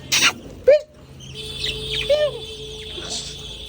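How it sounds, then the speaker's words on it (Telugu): Several birds chirp and tweet in short bursts, sharp calls rising over a soft background hum, fairly close, with brief pauses between. "ఇక్కడ చూడండి పక్షులు"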